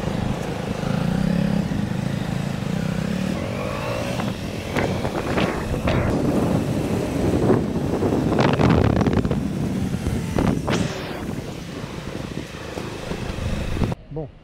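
A motorcycle engine drones steadily while riding, buffeted by heavy wind noise, with occasional talking underneath.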